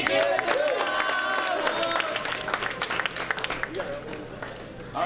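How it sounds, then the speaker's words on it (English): Audience applause at a high school football awards dinner, loud dense clapping with crowd noise and voices mixed in, gradually thinning toward the end. "Give her a round of applause"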